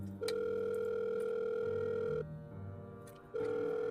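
Steady telephone dial tone sounds loud and close, breaking off briefly in the middle before resuming, with faint clicks of dialing and no voices.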